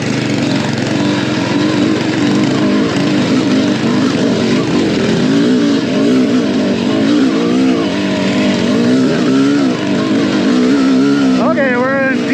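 An adventure bike engine held in third gear on a dual-sport ride drones loudly and steadily, with rough wind buffeting and a brief climb in revs near the end.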